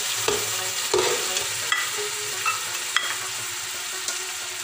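Spices, ginger-garlic paste and onions sizzle steadily in a hot pan for a beef nalli yakhni pulao, with a spoon scraping and clinking against the metal now and then.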